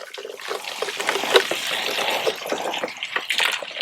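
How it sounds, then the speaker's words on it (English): Water rinsed out of a blender used for blended onions and peppers is poured into a cooking pot, giving a steady splashing trickle for a few seconds with no talking. "Going to rinse out my blender with just a little water."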